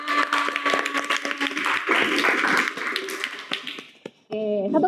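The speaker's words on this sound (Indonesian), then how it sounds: "Beri tepuk tangan." Classroom group gives scattered, uneven clapping after a teacher-led presentation, thinning out near the end before a brief voice cuts in.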